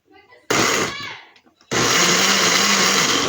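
A blender chopping tomatoes for sauce roars on in short pulses, stopping and starting, with a brief quiet gap and faint background sounds between bursts.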